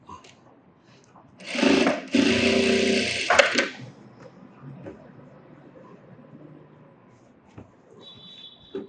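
A sewing machine stitches along a folded blouse edge in one loud burst of about two seconds, close by, followed by quieter handling noises and faint talk.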